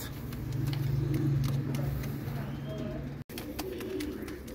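A red male Kermani crested pigeon coos in low, repeated throaty notes against outdoor background noise, with a brief break in the sound partway through.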